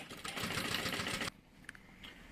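A sewing machine stitches fabric for a changing-bag tote, then backstitches: a brisk, rhythmic mechanical whir for just over a second before cutting off abruptly, followed by a couple of faint clicks.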